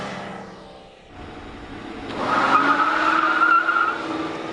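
A town car speeds in reverse on a road course, its engine whine climbing sharply about halfway through and holding high over tire and road noise, loud and close with no talking.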